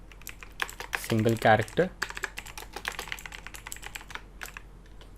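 Quick, light clicks from a computer keyboard as formula text is typed, an irregular stream of keystrokes spread across the clip, briefly broken by a voice in the middle.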